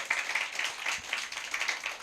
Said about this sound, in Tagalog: Palakpak naman po sa Panginoon Diyos.